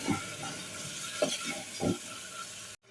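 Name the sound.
frying spices with garam masala for bagara rice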